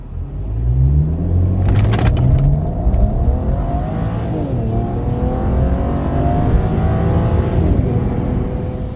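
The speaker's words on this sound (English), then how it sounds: "So now it's time for the 0 to 100 comparison, starting with the BMW 335i." A BMW 335i E90 accelerates hard from 0 to 100 km/h, its engine climbing through rising revs, briefly dropping at a gear change near the two-second mark and again later, loud and close throughout.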